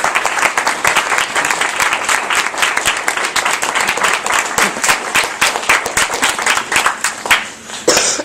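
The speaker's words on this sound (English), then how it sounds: "I'd like you guys to join me in a round of applause for Reilly." A conference audience gives a sustained round of applause, dense, loud clapping from many people that continues evenly and then begins thinning near the end.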